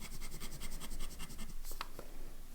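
A fountain pen nib scratches across paper in quick back-and-forth strokes while writing an ink swatch, close and fairly soft, ending with a couple of sharper scrapes.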